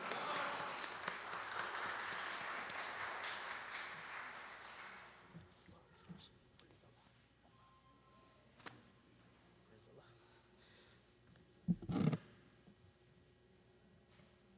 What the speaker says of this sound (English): I would ask our brothers and sisters to give our brother some Moorish honor claps